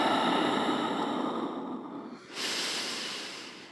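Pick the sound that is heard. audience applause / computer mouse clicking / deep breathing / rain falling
deep breathing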